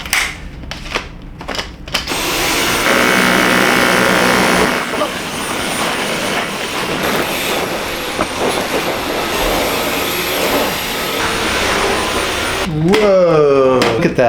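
A Dyson vacuum cleaner runs indoors with a loud, steady, broadband roar that holds for about ten seconds before cutting off, with a few sharp knocks at the start.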